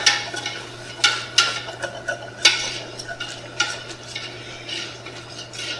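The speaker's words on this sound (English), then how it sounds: "I'm going to change to a whisk here to incorporate our flour." A whisk beats flour into melted butter in a pot to make a roux, bright rhythmic metal clinks and scrapes against the pot over a soft background sizzle, up close with no talking.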